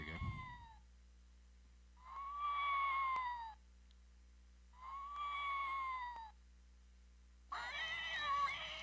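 A Halloween cat toy dressed as a grandmotherly kitty gives three electronic meows when its button is pressed, each a drawn-out tonal call about a second long separated by short pauses, the last one harsher and louder, preceded by a brief thump.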